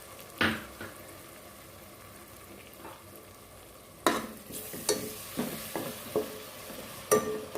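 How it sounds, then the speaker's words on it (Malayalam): Tomato puree stirred into a sizzling pan of salted masala, a spoon scraping in several sharp, evenly spaced strokes over a steady low frying hiss, close and moderately loud. "ഇതിലേക്ക് ടൊമാറ്റോ പ്യൂരി ഒഴിച്ച് നമുക്ക് മിക്സ് ചെയ്തെടുക്കാം."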